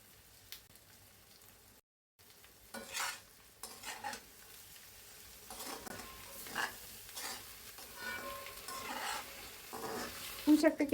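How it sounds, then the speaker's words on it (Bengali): Spice paste fries in oil for a rui fish curry with greens, a steady close sizzle broken by scraping stirs that grow busier and louder toward the end. "মশলাটা আমি তেলে ভাজা ভাজা করে নেব যাতে কাঁচা স্মেল না থাকে।"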